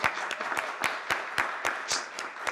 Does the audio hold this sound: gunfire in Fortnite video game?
no